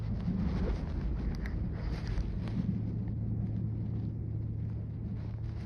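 Steady wind buffeting a microphone outdoors on a fishing trip, a continuous low rumbling roar with no letup and no voices.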